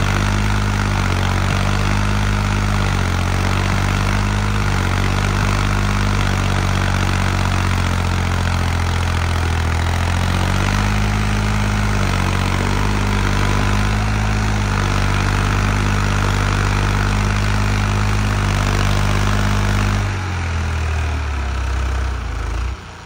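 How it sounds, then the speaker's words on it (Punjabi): A New Holland 3630 tractor engine pulls steadily in third medium gear, a loud continuous low drone running nearly unbroken for over twenty seconds before the tone drops near the end. "ਇਹ ਆ ਤੀਜੇ ਮੀਡੀਅਮ ਦਾ ਜ਼ੋਰ ਆ ਇਹ ਟ੍ਰੈਕਟਰ ਦਾ"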